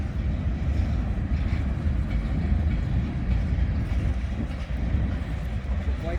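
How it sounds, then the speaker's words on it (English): A long Union Pacific freight train of about 150 cars rolling past near the tracks at Wheelon, Utah, a steady loud low rumble of wheels and wagons that continues without a break. "waits for the train to go by"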